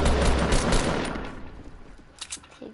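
Shotgun blasts in a video game open with a loud, dense burst of shots that fades away, followed by a few fainter shots near the end.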